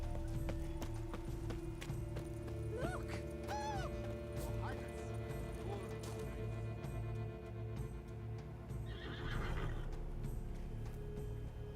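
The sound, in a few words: horse hooves and neighing in video game The Witcher 3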